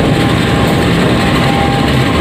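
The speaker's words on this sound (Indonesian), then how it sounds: "Ini dia lokomotif penarik" CC 201 diesel locomotive hauling the Dharmawangsa passenger train near Jakarta Kota, a steady loud rumble of engine and rolling wheels with continuous broadband noise throughout, no voices.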